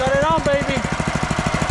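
Small engine driving a coffee pulper in Nicaragua, freshly suspended and bolted down, chugs close and loud with a steady rapid knocking pulse throughout, a person's voice briefly over it at the start.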